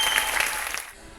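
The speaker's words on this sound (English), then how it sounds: "So give yourselves a round of applause." Audience round of applause at a gathering, a dense burst of clapping that fades out after about a second.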